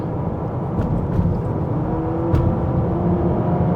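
Simulated engine note of a Honda Civic RS e:HEV accelerating on a hill climb road, a close, steady low drone that rises slightly in pitch, with faint tyre and road rumble underneath.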